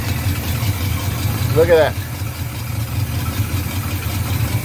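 A Luhrs 28 boat engine with a hose mix-up problem runs at a steady low idle, a continuous rumbling drone with a brief rising whine near the middle, and someone speaks briefly over it.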